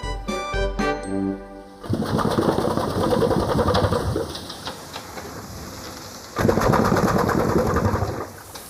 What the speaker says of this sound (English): This remarkable contraption is an old steam engine. Look at the precise movement of the vertical piston.